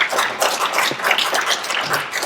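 A lecture audience at a hotel forum gives a short burst of dense, continuous applause, fairly close and even in loudness.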